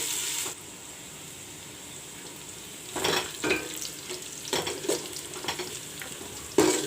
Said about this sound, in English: I will put this in also. Let the onions fry.